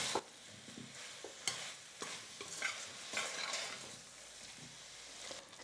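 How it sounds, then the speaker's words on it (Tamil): Mushrooms sizzle softly in a pan for mushroom biryani while a spoon scrapes and stirs in irregular strokes, no voices present. "காளானையும் சேர்த்துட்டு நம்ம மிக்ஸ் பண்ணிக்கலாம். ஒரு 2 நிமிஷத்துக்கு நல்லா வதக்கிக்கலாம்."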